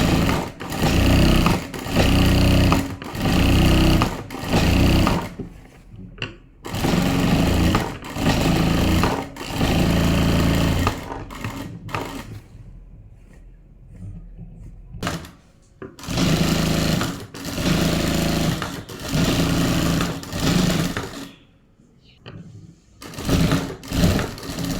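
A sewing machine stitches all the way around a garment piece in repeated bursts, loud and close. Quick runs of rapid needle clatter alternate with brief pauses and a few longer gaps.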